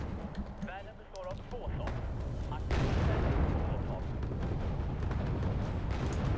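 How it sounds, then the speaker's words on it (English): Artillery barrage in the real-time strategy game Wargame AirLand Battle, heavy booms rolling into a dense, sustained rumble of explosions, loud and continuous in the second half, with a voice talking over the early part. "here comes the artillery to finish off the parasites, as I call them."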